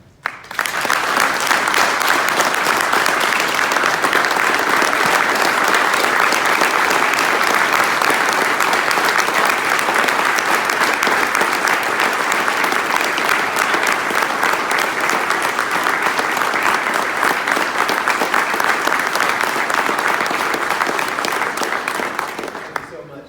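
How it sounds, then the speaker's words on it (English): A large audience gives a sustained, loud round of applause for the Triggs family at the 2019 Marcia Triggs Award of Excellence ceremony, steady and unbroken for over twenty seconds before fading. "a rousing round of applause for the Triggs family"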